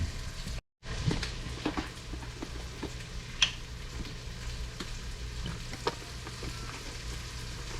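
Onions and peppers fry in a pan with a steady, close sizzle, punctuated by occasional sharp crackles and light utensil ticks, and no voices.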